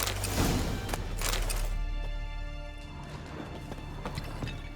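A horse's hooves clip-clop in The Witcher 3, loud and close at first, then easing into fainter, steadier steps.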